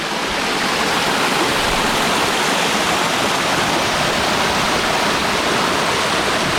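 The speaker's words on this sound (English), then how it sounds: "Glacial meltwater stream up here." A glacial meltwater stream and waterfall on Mount Rainier roar in a dense, constant wash of rushing water, loud and close, unbroken from start to end with no voices.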